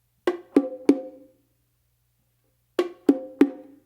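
Two groups of three sharp, ringing bongo open tones, close and clear, separated by a short silence.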